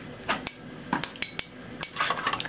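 A metal joint on an action figure ratchets as it is moved, giving a string of sharp, close clicks in small irregular clusters over a quiet background.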